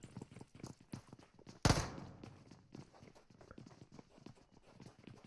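Rhythmic soft footsteps in PUBG Mobile, played during a competitive clan-wars match, tap steadily throughout with one sharp loud bang near the start and faint low chatter underneath.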